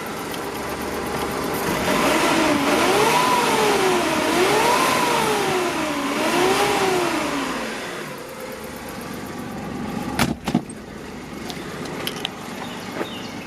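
A 1992 Mitsubishi Bravo kei van with a 660cc turbocharged three-cylinder engine revs up and down twice in rising and falling sweeps, then settles to a rough idle with a few clunks nearby.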